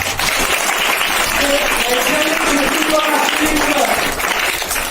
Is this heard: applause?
yes